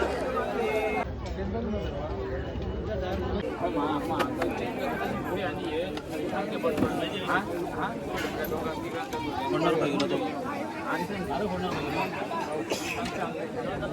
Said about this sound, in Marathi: भाविकांची गर्दी बघा खूप लोक आली आहेत